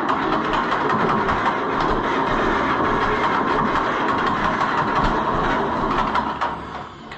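A John Deere B tractor engine runs steadily after a cold start, a loud, continuous, rough mechanical drone with a faint rhythmic clatter that holds for several seconds and eases slightly at the end.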